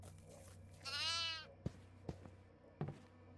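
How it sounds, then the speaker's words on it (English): A goat bleats once in the horror game Devour, a loud wavering cry lasting under a second, followed by a few sharp thuds from the game. "I found a goat."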